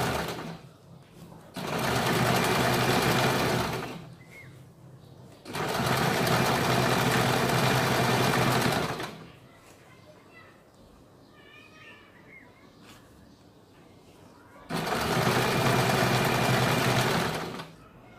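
A sewing machine runs in three long bursts, double stitching a kurti or simple suit, with quieter pauses between runs where faint rustling and handling of cloth can be heard.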